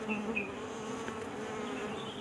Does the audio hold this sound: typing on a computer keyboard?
no